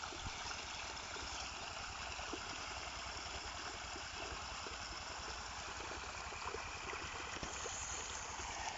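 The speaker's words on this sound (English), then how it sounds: "See, you can imagine how much water is coming here" Irrigation water from a river pours steadily into a farm field, a constant broadband rushing wash, fairly even in level and without talk, with a faint engine-like hum underneath.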